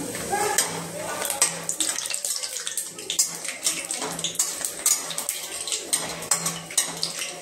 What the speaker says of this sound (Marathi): आता मी हे शेंगदाणे यामध्ये घालून घेते आणि ते छान असे आपण तळून घेणार आहे तेलामध्ये